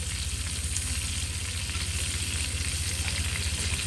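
Garlic fries in a pan for an igado dish, a steady, close sizzle and crackle of oil with faint stirring, continuous and even throughout.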